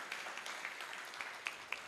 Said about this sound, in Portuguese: Vamos aplaudir os jovens?